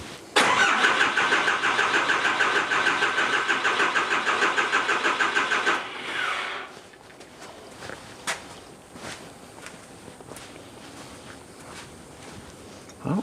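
A Cummins 4BT diesel in a 1968 Ford Bronco cranks loudly in a rapid rhythmic churn for about five seconds, then stops without settling into an idle, leaving quiet shuffling and scattered knocks close by.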